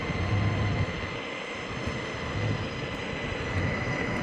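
A VEYMAX NYMPH electric skateboard at full throttle, around 19 miles per hour, gives a steady rushing roar of wheel and wind noise, constant and moderately loud with no talking.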